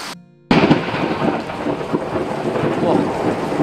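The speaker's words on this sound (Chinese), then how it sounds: "打雷了，好吓人" Thunder rolls loud and close during a heavy rainstorm over rice paddies and crayfish ponds, a continuous rumbling roar that breaks in suddenly after a brief quiet moment and keeps going with dense rain noise.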